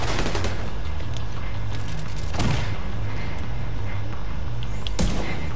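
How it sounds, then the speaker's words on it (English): Sustained automatic gunfire from a heavy machine gun during a firefight in The Division 2, a dense continuous rattle with sharp louder shots standing out, loud and close throughout. "Fucking super machine gun."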